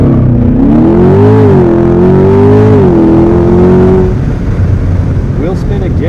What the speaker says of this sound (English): Wheel spin again.